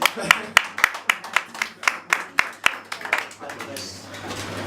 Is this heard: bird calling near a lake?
no